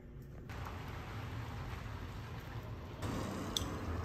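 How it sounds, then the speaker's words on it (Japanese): Rain falls steadily in Guanajuato, Mexico, a dense, even hiss that grows fuller and heavier partway through, heard close and fairly soft with no voices. "また雨強くなってきたんで帰ります。"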